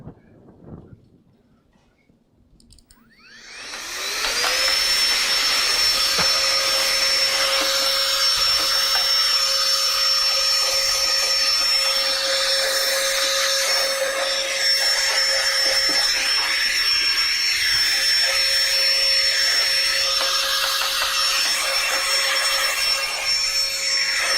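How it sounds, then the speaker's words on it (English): A USB-rechargeable electric air duster blows dust out of a Lian Li PC case. After a quiet start its motor spins up with a rising whine, then holds a loud, steady, high-pitched rush of air for about twenty seconds. "let me get my duster"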